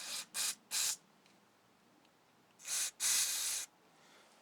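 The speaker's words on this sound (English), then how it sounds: "Spray through all the holes to that side." Aerosol carburetor cleaner sprays in short hissing bursts through the jets and passages of a Honda GC160/GC190 carburetor during a rebuild: three quick blasts, a pause, then two longer ones, close and clear with no talking.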